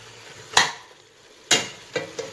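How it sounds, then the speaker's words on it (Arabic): A spoon stirs and turns meat frying with onions and spices for a lamb and prune tagine, giving three or four distinct scraping strokes against the pan over a quiet sizzle, close and fairly loud. "وهلأ بدنا نقلب اللحمة تبعنا"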